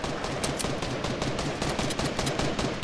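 Gunfire in a Fortnite match, a rapid series of sharp cracking shots repeating throughout, loud and unbroken with no talk.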